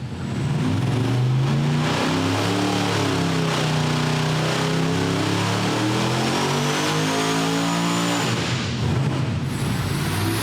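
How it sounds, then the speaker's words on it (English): Carbureted Pontiac V8 firing up and revving hard, a loud, close engine roar with rising and falling pitch sweeps for about ten seconds, alone without talk. "how fast a Pontiac starts"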